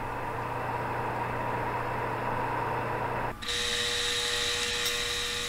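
A knife blade, a BK Skinner reworked into a Skeleton Skinner, is power stropped on a leather belt, with a continuous loud whining grind from the machine that shifts abruptly to a higher, brighter tone partway through, without talk.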